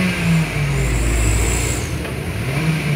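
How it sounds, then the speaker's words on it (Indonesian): A 2018 Mitsubishi Xpander engine revved with blips of the throttle, a close, loud mechanical drone with rising and falling pitch over a continuous idle hum. "Ya oke, digas-gas lagi."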